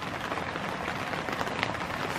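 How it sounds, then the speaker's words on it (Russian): Rain falling outdoors at Lake Simbozero on the Kola Peninsula, a steady, soft hiss of drops spread evenly across the whole stretch, moderately close and unbroken, with no talking. "Хотя дождик пошел."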